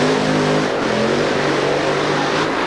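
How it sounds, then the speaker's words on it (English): Tom Hoover's supercharged drag racing car, an American entry at Santa Pod, idles loud and close with a steady, rough, throbbing engine roar that holds throughout, no voices over it. "Tom Hoover's car already fired up"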